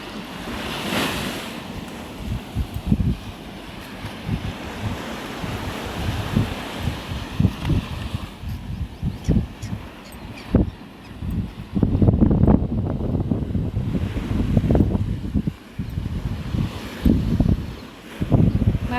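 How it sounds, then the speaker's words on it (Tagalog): Ocean waves surge and wash repeatedly against the shore, mixed with gusty wind buffeting the microphone, continuous and fairly loud. "Sarap pakinggan ng alon ng tubig."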